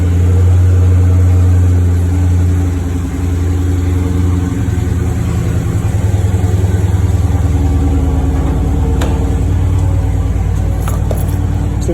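A Dodge Charger Scat Pack V8 with sport exhaust idles with a deep, steady burble close by, then swells into a louder, rising drone partway through, with no talking.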